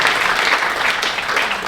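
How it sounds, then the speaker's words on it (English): Applause from a comedy club audience, a dense steady wash of clapping that fills the whole moment and stays loud and close throughout. "Can I get a round of applause?"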